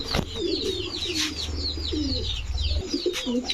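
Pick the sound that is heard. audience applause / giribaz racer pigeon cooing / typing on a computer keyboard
giribaz racer pigeon cooing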